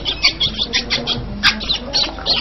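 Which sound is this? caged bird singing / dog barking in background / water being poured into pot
caged bird singing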